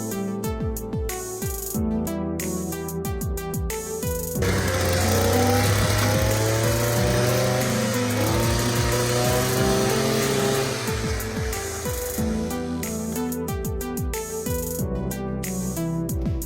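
A powered trencher cuts along the edge of a small landscape bed planted with rose bushes, its engine droning loudly and steadily in the middle stretch, with music playing before and after.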